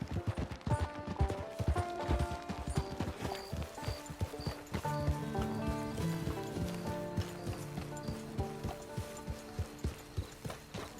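Horse hooves clip-clop in Red Dead Redemption 2, a steady rhythmic trot of crisp strikes that runs the whole time beneath layered game music.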